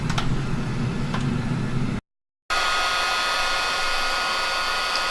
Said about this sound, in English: heat gun definitely helps get these fittings on